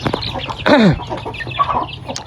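Bangkok chicken clucking as it comes down from a raised stilt coop, with one loud descending call mid-clip amid scattered quieter clucks and farmyard noise close by.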